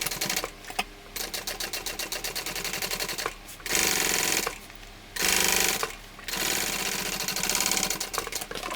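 A sewing machine stitches a full seam allowance on a Verona tote bag, running in quick mechanical bursts separated by short pauses, loud and close with a rapid clattering rhythm.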